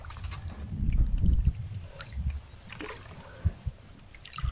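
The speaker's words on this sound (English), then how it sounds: "paddling right now" Canoe paddling on Johnson Lake in calming wind: irregular splashes and gurgles of paddle strokes close by, with soft wind noise between strokes and no talk.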